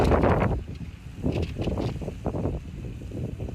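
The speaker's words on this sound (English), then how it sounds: "Salaki, it's a little windy out here" Gusty wind buffets the microphone in uneven bursts, rumbling and rustling close by outdoors.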